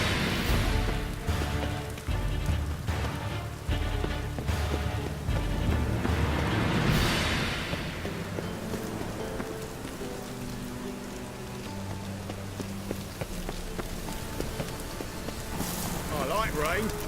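Rain falling in The Witcher 3 Wild Hunt, a dense continuous patter over the game world, with voices talking over it and other game sounds mixed in.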